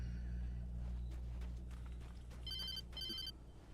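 A phone in the video game Alan Wake gives two short electronic rings near the end, over a low ambient game hum and faint footsteps.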